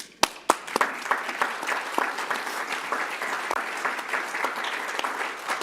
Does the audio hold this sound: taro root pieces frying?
no